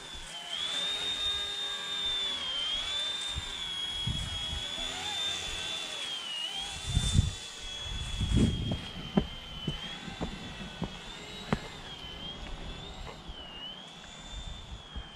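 A small RTR Hobby mini RC helicopter flies nearby with a constant high-pitched whine that wavers slightly as it maneuvers, with occasional thumps and handling noises underneath.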